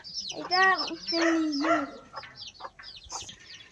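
Chickens, including a native rooster, cluck and call close by on a hen farm, a few drawn-out squawks followed by shorter clucks.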